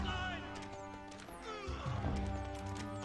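Horses neighing and whinnying amid clattering hooves and clashing impacts in an Age of Empires IV battle, several loud cries layered over dense combat noise, with a voice speaking faintly underneath.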